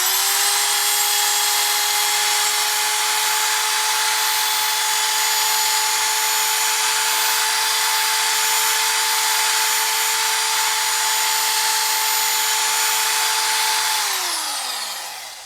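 A rotary tool bit grinds away casting marks inside a Yamaha FZ600 motorcycle wheel hub, a loud, steady high-pitched whine held for about fourteen seconds before spinning down at the end, with no talking.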